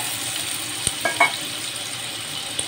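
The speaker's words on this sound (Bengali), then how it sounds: "এখন আলুগুলোকে একটু হালকা লাল লাল করে ভেজে নেব।" Diced potatoes frying in refined oil, a faint steady sizzle with a few light clinks of a utensil against the pan.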